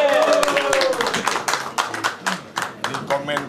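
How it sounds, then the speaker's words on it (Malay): Scattered hand clapping from an audience at a Malaysian political gathering, crisp claps starting together and then thinning to a few irregular claps over a steady murmur of voices. "Tepuk tangan sikit lah."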